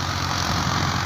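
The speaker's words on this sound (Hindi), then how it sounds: "एक ट्रैक्टर ये है 480 फीएट, ये बाइक का ट्रैक्टर है" A Fiat 480 tractor engine runs steadily in a farm field being readied for wheat, a loud, continuous low diesel drone with no pauses.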